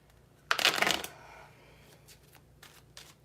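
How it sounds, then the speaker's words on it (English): Tarot cards give one close, crisp riffle shuffle, followed by a few soft card taps and rustles. "I'm just shuffling all of them."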